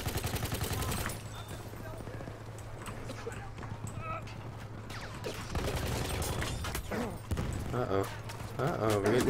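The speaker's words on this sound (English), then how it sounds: "We're getting shot." Gunfire crackles in Battlefield 1, rapid shots and bursts sounding mid-distance alongside clattering and rumbling combat noise, with a voice talking over the mix.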